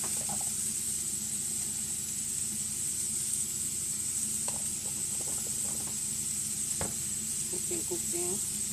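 Sauce sizzles steadily in a pan during cooking, a constant bright hiss with soft crackles and a few faint clinks, heard fairly close and alone.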